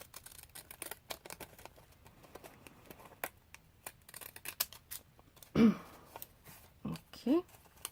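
Scissors snip through paper while a small junk journal booklet is trimmed, giving a string of quiet, close, crisp clicks and cuts, with a couple of short voice sounds near the end.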